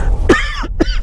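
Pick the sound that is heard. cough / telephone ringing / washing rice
cough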